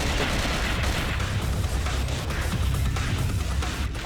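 Weapon fire in the video game Cold Fear, a dense rumbling barrage of shots and blasts, loud and continuous for about four seconds.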